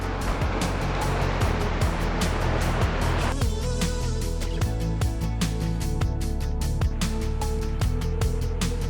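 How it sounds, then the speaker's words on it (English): A river flows steadily beside a mountain cycling route in India, a continuous broadband rush of water with no breaks, loud and close throughout. "We are next to the river here."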